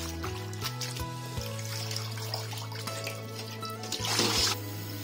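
Wild dandelion greens dug from the countryside being rinsed under running water in a basin, with a steady close trickle and splashing that swells briefly near the end, no talking.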